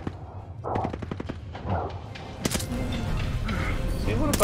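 Call of Duty Vanguard gunfire in rapid automatic bursts and sharp single shots, close and loud, with voices calling out amid the shooting.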